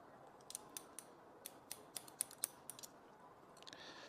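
Scissors cut short hair in a salon haircut, giving a quiet, close series of crisp snips in irregular bursts, a dozen or so over a few seconds, with no talk over them.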